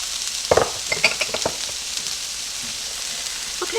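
Onions sizzle in a pan under a steady frying hiss, with a few sharp scrapes and clinks of a utensil stirring early on, then continuous quiet crackle.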